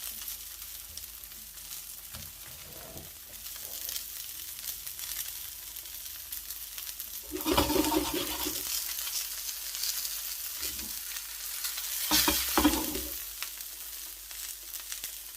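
Salmon frying in a pan, a quiet steady sizzle with two louder bursts of crackling partway through.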